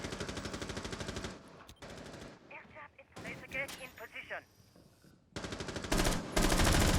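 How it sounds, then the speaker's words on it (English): Automatic gunfire from a Rainbow Six Siege esports match comes in long rapid bursts, loud and close, broken by short gaps filled with softer game sounds and what seems to be voice chatter. "He hears the gunfire."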